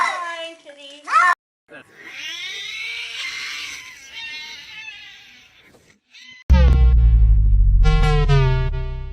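A cat meows in a high, wavering voice, several drawn-out calls near and clear, followed by a loud burst of music with a thumping low end.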